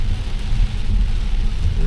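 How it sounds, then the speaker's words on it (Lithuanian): Heavy overnight rain keeps falling in the United Kingdom, a loud steady dense hiss with deep rumbling underneath and no break. "Ir naktį labai smarkiai lyja ir dabar smarkiai lyja."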